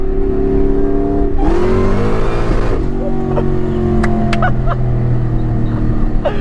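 Supercharged 800+ hp 2003 Ford SVT Cobra with a Whipple supercharger: loud, close engine revving with a rising whine and a sharp throttle burst, then a lower steady drone with faint talk.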